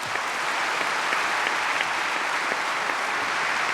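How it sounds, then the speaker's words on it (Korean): A church congregation gives the preacher a strong welcoming round of applause, dense steady clapping from many hands filling the hall throughout without a break. "우리 나오실 때 우리 한번 힘있게 박수로 영접하겠습니다."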